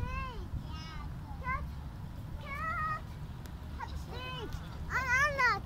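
A frightened cat meows repeatedly outdoors beside the sea, several drawn-out, wavering cries spaced across the moment, close and fairly clear over a constant rumble of wind or surf.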